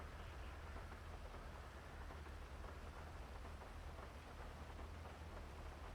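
Rain falls in the GTA NoPixel role-play game, a steady, even hiss that stays constant for the whole stretch with no voices.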